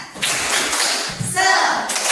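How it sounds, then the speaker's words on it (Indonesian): Students in a classroom perform a rhythmic group clap, sharp bursts of hand claps and slaps repeating in quick patterns, close and fairly loud. "ayo kita tepuk semangat dulu, biar semangat mengerjakan tugas berikutnya."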